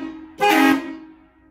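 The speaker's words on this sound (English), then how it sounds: "the air horn that's up there" A single loud blast of a converted school bus's air horn, held for about half a second, then echoing through the hills and fading slowly.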